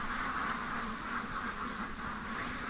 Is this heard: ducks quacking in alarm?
yes